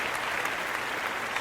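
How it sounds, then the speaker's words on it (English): Student athletes at a Sidwell athletic celebration clap for themselves, a brief, steady wash of dense applause from a crowd, with no voices over it. "Give yourselves a round of applause"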